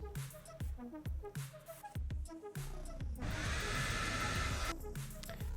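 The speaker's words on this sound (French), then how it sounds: "vous pouvez accélérer le séchage au sèche-cheveux comme ceci." A few hollow knocks and clatters, then a hair dryer switches on and blows with a steady whirring roar close by, drying textured paint on miniature bases.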